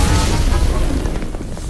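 A distillation apparatus blows up in a loud, low booming explosion that fills the whole moment, with rumbling debris and crackle trailing off behind it.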